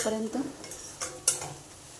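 Dried jawla shrimp chutney with masala being stirred in oil in a pan, giving a few soft scraping and clinking strokes of a spoon against metal with faint sizzling, close and fairly quiet.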